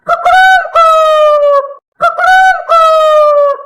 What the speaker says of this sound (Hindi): मकई खाकर जोर जोर से मुर्गा बोलता है